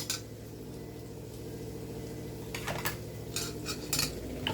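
A spoon scrapes and knocks against a metal pot while food with lemon juice and a little water is stirred. The clinks come faint and irregular over a steady background hum, with a few sharper scrapes toward the end.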